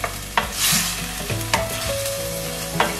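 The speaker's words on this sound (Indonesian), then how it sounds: "aduk-aduk terus sampai dia berubah warna" Marinated beef is stirred and fried in a pan with a steady close sizzle, and a spatula scrapes and clatters against the metal three times.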